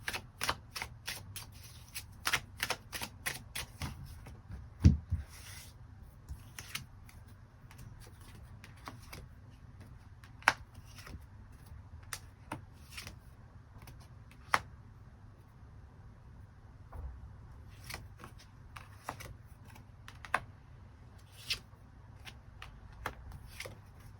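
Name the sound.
tarot cards being shuffled and drawn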